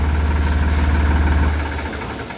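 A Massey Ferguson 9500 Smart tractor engine with 376 hours idles nearby with a steady low rumble, then begins to wind down as the key shuts it off.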